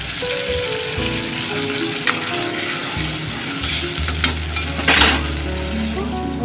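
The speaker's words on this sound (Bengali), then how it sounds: "ঝোলটা মোটামুটি ফুটে গেছে" A spicy hilsa fish curry broth in oil bubbles in a pan, a close, steady sizzle and simmer broken by a few brief clinks, with no voices.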